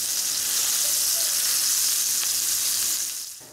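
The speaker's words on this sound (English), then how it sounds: "You need a nice sear on your meat." Burger patties sear in a hot pan, a loud, even, close sizzle that holds steady and then fades slightly at the end.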